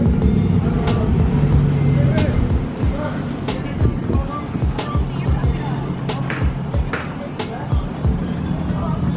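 A leveled Chevrolet Tahoe on 35x12.50 tires drives past with a deep engine rumble and road noise, among sharp clicks and knocks, while people talk nearby.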